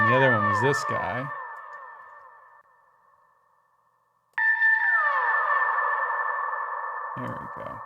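Synth tones pass through an Ableton reverb in a music production session, each note trailing into a long smooth decay that fades toward silence before a new sustained tone enters, with a voice briefly heard.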